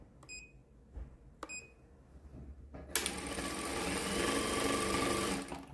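A Prosew PS-1987A stepping-motor sewing machine gives two short beeps, a soft click, then starts sewing a decorative stitch, a rapid, even mechanical chatter that runs loud and close for nearly three seconds before stopping.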